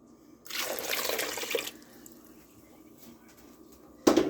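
Warm water pours steadily for about a second into a bowl of whole wheat bread dough mix, a close splashing rush, then quiet follows until a short clunk at the end.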